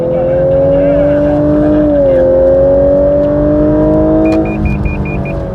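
A Lexus LC500h hybrid coupe drives hard on a race circuit, its engine note climbing in a loud close drone, dipping at a shift, then rising again before a short string of warning beeps chimes.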